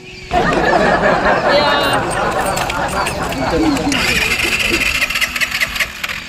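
A motorbike is kick-started and its engine catches and runs, with people talking loudly over it throughout.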